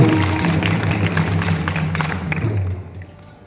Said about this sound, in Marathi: वाजवा टाळ्या एका जोरात